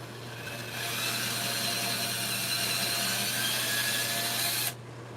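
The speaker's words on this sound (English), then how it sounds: "Okay, I'm going to drill it out just a little bit." Power drill boring into a wooden table leaf, a steady loud motor whine that spins up, holds for about four seconds with the bit grinding through the wood, then cuts off abruptly.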